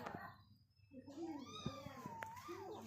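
A cat that has been digging among coconuts gives a long, wavering meow over a soft background murmur. A person speaks faintly nearby, and everything is quiet and somewhat distant.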